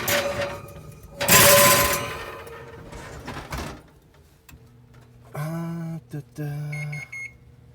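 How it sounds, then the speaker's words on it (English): A kitchen timer is set during flax-oil seasoning of cast iron, first with rustling and handling noises, then a run of short, fairly loud electronic beeps in quick succession. "Set my timer."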